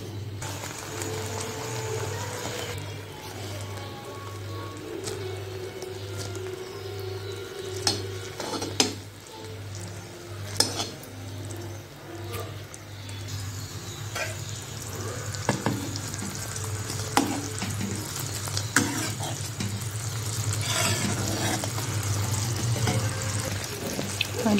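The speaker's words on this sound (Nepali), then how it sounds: "सक्खर पाक्दैछ। यसलाई मजाले पाक्न दिनुपर्छ एकछिनसम्म, बाक्लो हुने बेलासम्म।" Sugar syrup for sesame laddu bubbles and sizzles steadily in a pan, with frequent stirring scrapes and clinks and a constant low hum underneath, close and fairly loud throughout, with no talking.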